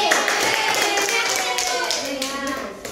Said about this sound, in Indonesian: Ayo kasih tepuk tangan dulu buat kelompoknya Desti.